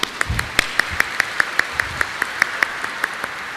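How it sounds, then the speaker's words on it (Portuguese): A church congregation claps for a popular parish choir at an evening Mass in a basilica, a sharp, evenly spaced run of claps with a faint murmur underneath. "Uma salva de palmas para vocês."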